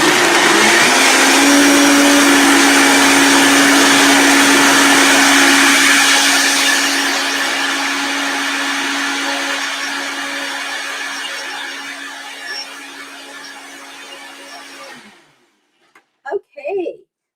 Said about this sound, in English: Now I'm going to cover the blender.